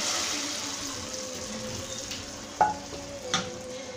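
Deep-browned fried onion (beresta) added to cooked masoor dal, heard as a continuous frying sizzle with a couple of sharp utensil knocks near the end.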